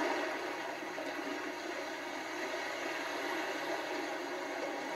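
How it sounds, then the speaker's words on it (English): Ocean waves setting on a sleep sound machine, a constant, even wash of broadband noise at moderate level with little surge or break audible, no talk over it. "Ocean waves."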